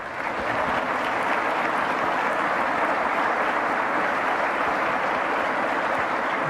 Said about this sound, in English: you can give him a big round of applause too